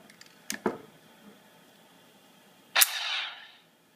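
A Han Solo DL-44 blaster prop fires its electronic sound effect: a couple of quick clicks, then one sharp, bright zap that decays over about a second, in an otherwise quiet room.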